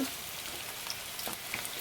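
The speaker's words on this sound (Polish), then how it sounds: "Olej oczywiście musi być rozgrzany," Turkey cutlets, floured and breaded, frying in hot oil, giving a steady soft crackle and sizzle with scattered pops, close and fairly quiet with no voices.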